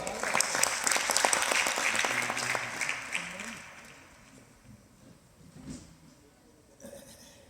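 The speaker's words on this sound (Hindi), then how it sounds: "तालियों से स्वागत करते हैं।" Loud applause from a crowd claps for a few seconds, then fades to scattered claps and quiet murmuring.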